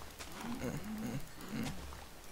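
Baby cows mooing in Minecraft, two or three short, low bleating moos in quick succession, close and clear over a soft background hiss.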